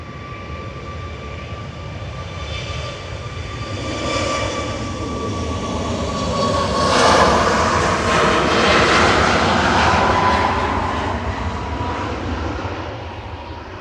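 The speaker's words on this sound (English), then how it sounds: "The Flight 1026 from Heraklion with their family on board." A passenger jet on flight 1026 from Heraklion at Manchester Airport passes with a rising, whining engine roar that swells to a loud peak midway and then slowly fades, with no voices.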